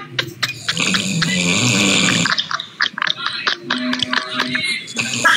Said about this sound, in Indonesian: Ngorok dia loh.